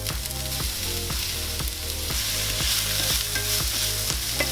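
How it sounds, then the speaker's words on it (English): Onions browning in olive oil in a large frying pan, a steady loud sizzle throughout, broken by regular rhythmic stirring scrapes of a utensil against the pan, with no talking. "heat up one tablespoon of olive oil into a large frying pan. And we're going to brown our onions"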